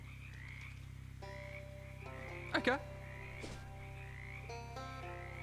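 Croaking frogs from the swamp area of the video game Shadows over Loathing, a short bright burst of croaks over steady game music, with a brief spoken word.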